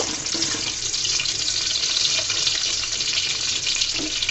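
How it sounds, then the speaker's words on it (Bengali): Chopped garlic frying in oil in a pot, a dense steady sizzle filling the whole stretch at close range with a few faint clinks, no voices. "দিয়ে দিব রসুন কুচি, রসুনগুলোকে ভালো মতো লাল করে নিব।"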